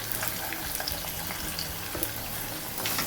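Mustard seeds, chana dal, urad dal, ginger pieces and asafoetida fry in hot oil for ginger chutney, a close, steady sizzle with scattered popping crackles and light stirring, no voices.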